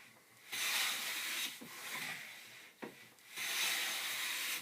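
Hand plane shaving along the joint edge of a classical guitar soundboard, mostly the middle section: two long, loud, close rasping strokes with a shorter, quieter pass between them, and no talking.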